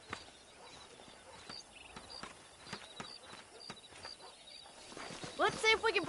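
Horse hooves clip-clop at a steady walking rhythm in Red Dead Redemption, distinct thuds over quiet ranch ambience, with a brief burst of other sound near the end.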